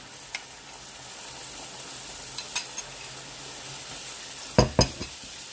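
Diluted tomato paste stirred into onion and carrot frying in a pan: a soft steady sizzle with a few light scrapes and clinks of a utensil against the pan, louder near the end.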